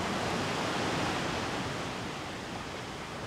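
Sea waves break steadily against Daewangam, the rocky islet off the Korean coast, giving a dense, continuous roar of surf with no pauses and no voices.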